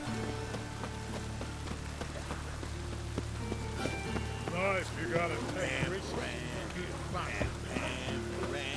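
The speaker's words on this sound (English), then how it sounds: "raining again." Rain falls in the video game The Witcher 3 as a soft, steady patter under game music and a brief spoken line, the whole mix fairly faint.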